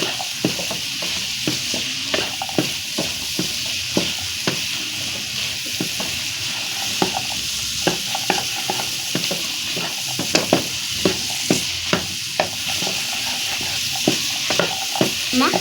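Eggs being stirred rapidly with a spoon as they fry in a pan for an egg and peas curry, with continuous loud sizzling and frequent rhythmic scrapes and taps of the spoon.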